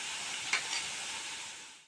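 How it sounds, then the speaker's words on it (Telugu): Vegetables frying on high heat in a pan give a steady broadband hiss and sizzle, with a brief stir near the middle before the sound fades out. "కాసేపు హైలోనే పెట్టి వేయించుకుందాం."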